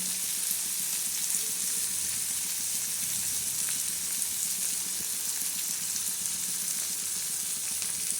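Tomatoes and masala frying in a pan for a spicy Marathi-style usal curry, a steady close sizzle and crackle of hot oil running throughout with faint stirring, no voices.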